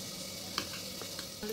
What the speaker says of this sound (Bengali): আলুটা দেখো ভাজা হয়ে এসছে, আলুটা ভেজে নেবো